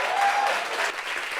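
A crowd claps together in brief, even applause, a dense wash of hand claps at steady loudness with no pause.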